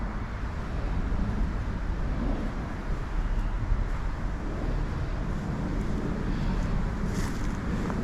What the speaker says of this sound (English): A little bit of road noise. You're not far from the freeway.